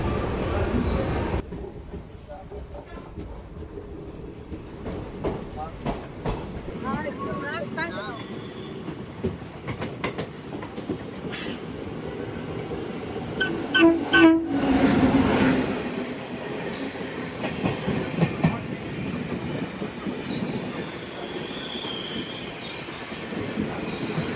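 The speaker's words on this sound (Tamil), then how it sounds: "நம்ம ட்ரெயினை திருப்பூர்லேருந்து டிபார்ட் பண்ணுறாங்க" A train rumbles and clatters as it pulls away from Tiruppur station, wheels squealing briefly midway, with faint voices now and then beneath the rolling noise.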